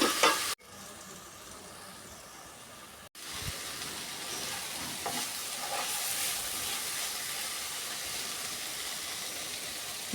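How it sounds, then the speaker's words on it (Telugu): Broad beans and onions frying in a pan, a steady close sizzle with occasional stirring scrapes, continuous and loud throughout with two brief dropouts near the start. "ఒక్క నిమిషం పాటు ఉల్లిపాయలతో సహా మనం చిక్కుడుగాయల్ని వేపుకున్నాము"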